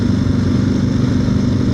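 Kawasaki KLR 650 motorcycle engine idling nearby in a steady, low rumbling drone with even pulsing, continuous and loud with no talk over it.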